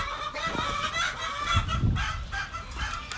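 Farm chickens from an incubation project cluck and squawk continuously near a coop, with a rooster-like call mixed in, close and busy, no talking.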